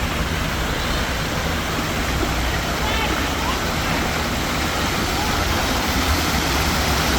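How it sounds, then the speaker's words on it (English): Splashing water from an outdoor fountain in a public square, a steady dense rush of falling water that fills the whole stretch evenly and masks other sounds. "I like the water fountain over here."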